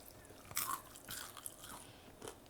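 Crispy tofu popcorn dipped in avocado and bitten, a few close, soft crunches spaced across a couple of seconds in an otherwise quiet setting.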